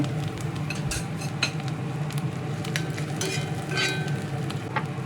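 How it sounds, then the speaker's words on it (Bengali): Half-fried onion and grated tomato stirred and fried in a pan for a spicy soybean dish, with steady sizzling under repeated clinks and scrapes of a utensil against the metal. "আধা ভাজা পেঁয়াজের সঙ্গে ভালোভাবে নেড়ে চেড়ে মিনিট খানেক সময় ধরে কষিয়ে নিচ্ছি"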